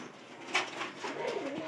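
An older, strong pigeon cooing, a brief soft low coo heard close but quietly, with faint background noise and no talking.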